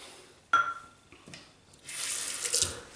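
Water from a tap runs briefly after a few clinks of a bakelite slant safety razor, as it is rinsed in a sink, the stream steady and close for about a second.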